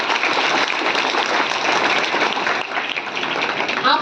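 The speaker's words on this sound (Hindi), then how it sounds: "तो उनके लिए एक बार स्वागत में ताली हो जाए।" An audience of schoolchildren applauding a welcomed guest at a Children's Day school event, a dense, steady round of clapping, close and loud throughout.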